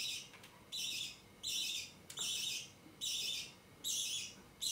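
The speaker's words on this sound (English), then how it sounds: "A budgie's voice sounds like a sped-up recording" A pet budgie (budgerigar) gives a run of harsh, high chirping squawks in about five evenly spaced bursts, close and fairly loud with short gaps between them.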